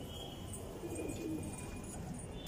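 Domestic pigeons kept by a pigeon keeper in Okhla, Zakir Nagar coo softly. A faint, low burbling call rises briefly near the middle over quiet background noise.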